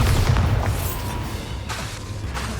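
A Bombarda spell explodes in Hogwarts Legacy, set in a haunted Hogsmeade. It lands as a loud, deep boom that rolls off into a fading rumble with crackling debris.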